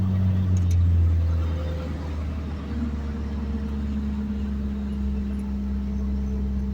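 A Ford Focus RS prototype, front-wheel drive, gives a steady low engine rumble and drone throughout, with no talking.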